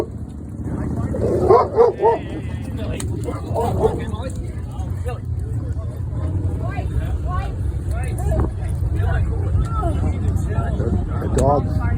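A dog barks a few times near the start at an outdoor motorcycle gathering, the Slimey Crud run between Pine Bluff and Leland, Wisconsin, with steady traffic noise and people talking throughout.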